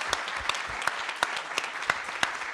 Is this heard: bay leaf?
no